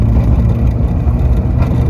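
Mazda NA Miata engine pulling hard to pass a Jeep, a steady loud mid-pitched drone with road and wind noise and no break for the whole short stretch.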